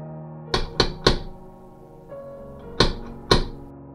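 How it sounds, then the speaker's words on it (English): Knocks on a window: three sharp raps in quick succession, a quiet pause, then two more loud knocks, heard close and alone. "I'm gonna go mad listening to these knocks"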